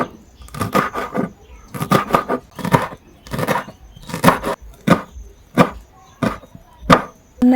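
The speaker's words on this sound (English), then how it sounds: "I'll go ahead and chop them up." Green onion and coriander are chopped on a board: quick bursts of crisp knife strikes in short rhythmic runs, close and clear, separated by brief pauses.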